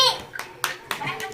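A few sharp hand claps at a marriage anniversary celebration, spaced unevenly over a second, mixed with nearby voices including a child's.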